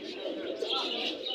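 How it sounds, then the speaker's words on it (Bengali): Pigeons cooing at a busy pigeon market in Jinjira, Bangladesh, a continuous soft murmur of several birds close by, blended with crowd noise and occasional chirps. "দেখেন এইগুলো সব মাদি কবুতর"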